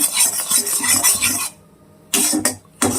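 A spatula chops an omelette into medium pieces in a pan while making egg fried rice, giving a run of scraping, scratchy strokes, then a pause and two more short scrapes close by.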